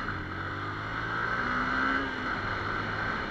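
Steady droning engine of a modified Yamaha R15 V2 motorcycle, running at a constant pitch and swelling slightly in the middle before easing back, close and without talk.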